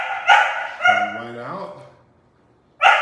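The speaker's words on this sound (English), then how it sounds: "You can hear my puppy there." A puppy gives a couple of short, close barks and a rising whine, mixed with a person speaking briefly in an indoor room.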